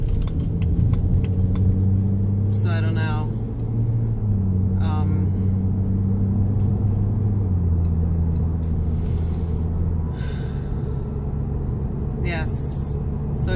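A 2011 BMW 335i droning with a low, steady buzz while driving, the tone shifting slightly in pitch over several seconds under road rumble, with someone talking intermittently over it.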